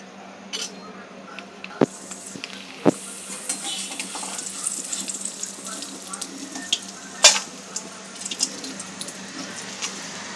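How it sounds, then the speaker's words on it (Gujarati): Homemade potato chips fry in oil with a steady, soft sizzle and scattered light clicks and taps of a stirring utensil throughout. "એને તળીશું."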